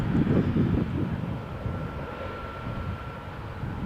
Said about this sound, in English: Takeoff 146 knots.